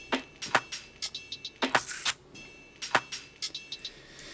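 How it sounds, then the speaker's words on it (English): A punchy, groovy drum loop with crisp hits and bright snappy transients repeating in a quick syncopated pattern, played alone. "I introduce a new top drum loop"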